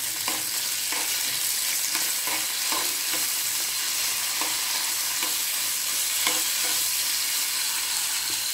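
Cumin, coconut and chana dal sizzle steadily in a pan, with a regular rhythm of spoon scrapes as the mix is stirred, close and without talk.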